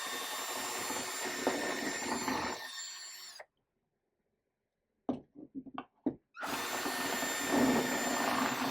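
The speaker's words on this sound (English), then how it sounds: "with a portable drill and 3 8-bit, carefully drill each of these bracket holes center mass" A portable drill with a 3/8-inch bit bores bracket holes for a lawn tractor mirror mount, whirring steadily, then stopping, then a few short bursts and a longer run.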